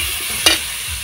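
Raw mango pieces stirred and lightly fried in a pan for a spicy-sweet mango pickle, giving a soft continuous sizzle with one brief louder scrape of the spoon midway.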